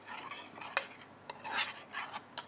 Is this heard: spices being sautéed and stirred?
yes